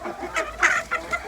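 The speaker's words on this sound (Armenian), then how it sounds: "այս հավերն ապահով են" Chickens cluck close by in a short run of quick, throaty calls, with one louder cluck standing out in the middle and no talk over them.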